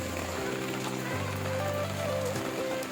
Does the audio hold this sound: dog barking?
no